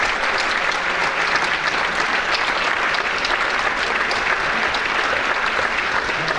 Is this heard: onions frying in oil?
no